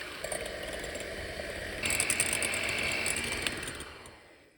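An electric mixer whisks eggs in a deep bowl at low speed, a close, steady rattling mechanical whir that steps up in intensity midway before fading out.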